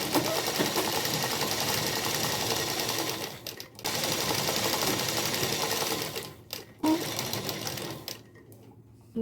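A sewing machine runs a straight seam on a semi-Patiala salwar, whirring steadily and close for several seconds, then stopping briefly and restarting in short bursts.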